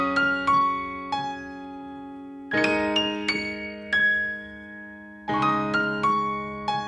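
Solo piano plays the opening four chords of a song, clean struck chords with broken notes ringing and decaying between strikes, in three clear phrases.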